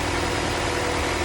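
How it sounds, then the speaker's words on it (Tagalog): A car engine idles just after starting, a steady close low rumble with even pulsing, with no voices. "So ngayon, naka-start na yung makina"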